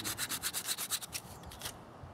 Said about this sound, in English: Alright, so I finished sanding the edges down.